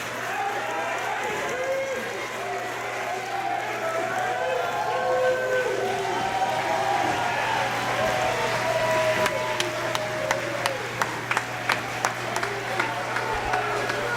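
A wrestling crowd at a Limitless Wrestling independent show cheers and roars steadily throughout, with a burst of sharp claps and impacts near the end.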